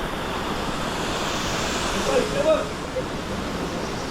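A seaside waterfall at Guhagar roars as a broad, steady wash of falling water and surf, loud and continuous, with faint voices mixed in.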